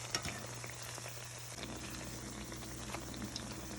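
Saltfish fritters frying in oil in a pan on a stove at medium heat, a steady close bubbling sizzle with a low hum beneath and occasional small pops and clinks.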